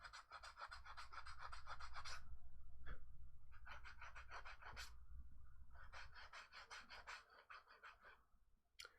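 Light sandpaper rubbed along a leather edge makes quick, rhythmic rasping strokes in steady bursts with short pauses, faint and close with no talking.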